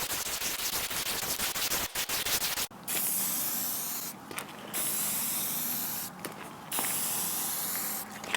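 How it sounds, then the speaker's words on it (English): Rust-Oleum primer and flat black enamel spray paint hissing onto metal mini rails for solar panel racking, several close bursts of aerosol spray separated by short pauses. "First, I hit them with a coat of Rust-Oleum Professional Primer, then 2 coats of Rust-Oleum Flat Black High Performance Enamel"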